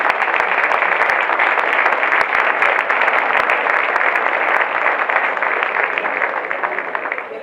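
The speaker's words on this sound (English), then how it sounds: "please, another round of applause for them" Applause for a choir at an MLK breakfast, a loud, sustained wash of many hands clapping from a large crowd with sharp individual claps, tapering slightly at the end.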